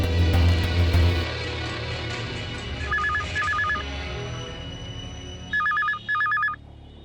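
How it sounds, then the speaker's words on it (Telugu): Telephone ringing in a house, two short bursts of electronic trilling rings in a paired pattern, then two more, louder and nearer, following a brief low rumble at the start. "కెమెరామెన్ జగదీష్ కి ఫోన్ చేయి."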